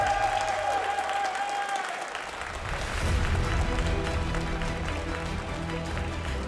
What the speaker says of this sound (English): Give one more round of applause for your grand champion, Colin Six!